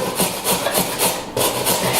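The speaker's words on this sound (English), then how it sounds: "so I'm just going to grate them" Carrots rubbed against a kitchen grater for a kale salad, rapid rhythmic rasping strokes repeating about four times a second, close and fairly loud with a short pause midway.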